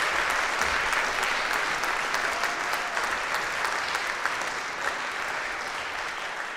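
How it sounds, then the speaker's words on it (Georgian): Warm applause for a contestant at the final of a televised talent show, a large audience clapping steadily and loudly throughout, dense and sustained, easing slightly toward the end. "ანასტასიას ვუშვებთ მხურვალე აპლოდისმენტებით"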